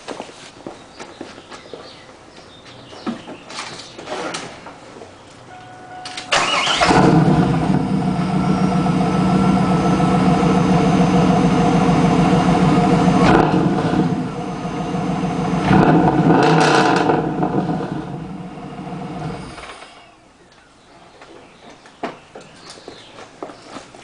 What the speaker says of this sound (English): I'm going to fire up the ride so you can hear it. Let you enjoy the sound of the Borla exhaust.